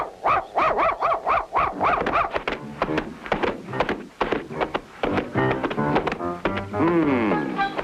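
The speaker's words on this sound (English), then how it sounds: "Go away, dog." A dog in an animated circus cartoon barks in a rapid series of sharp, loud yaps, then gives a rising whimpering whine at the end.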